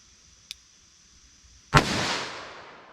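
A single .357 Magnum Underwood bonded round is fired through a chronograph outdoors, a sharp loud report with a decaying echo, preceded by a faint small click.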